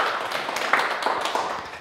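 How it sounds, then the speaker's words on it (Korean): An audience claps in congratulation at a lecture, a short burst of scattered hand claps. "축하, 박수 부탁드립니다."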